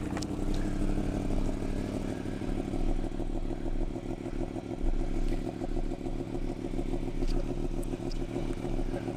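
A 2020 Yamaha MT-10 sport motorcycle engine idles with a steady rumbling, throbbing beat and some mechanical clatter, close and continuous, no talking.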